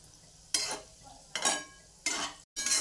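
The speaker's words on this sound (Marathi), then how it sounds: "म्हणजे सगळ्या बाजूने हे गोळे तळले जातात बघा." Gulab jamun dough balls frying in hot oil while being gently swirled round in the pan, giving three or four bursts of bubbling sizzle that rise and fade, the last briefly cut off.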